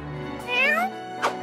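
A cat meows in the Barbie and the Three Musketeers video game, a rising drawn-out cry followed by a short second mew, loud and close over a steady game music bed.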